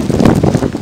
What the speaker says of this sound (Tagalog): Sobrang hangin dito.